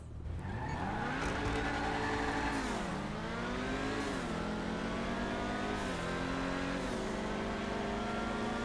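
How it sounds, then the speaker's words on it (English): A Grotti Itali GTO Stinger TT accelerates hard down an airstrip in GTA Online, its engine note climbing through several gear shifts, with some tire squeal at the launch, loud and close. "I'm gonna run this down the strip next to the Camaro, and we'll see which one's faster on the airstrip"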